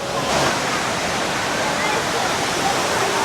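The HSBC Rain Vortex indoor waterfall at Jewel Changi Airport roars as a loud, steady, dense rush of falling water that fills the whole short stretch.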